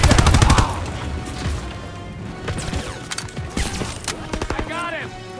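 Gunfire in the Call of Duty: World War II Stronghold level, loud rapid automatic bursts that give way to scattered shots, explosions and ricochets, with soldiers shouting over the battle.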